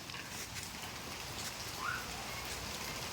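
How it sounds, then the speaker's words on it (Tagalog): Rain falls at night with a continuous dense hiss and patter, steady and fairly close, with no voices. "bumulhot na talaga yung ulan"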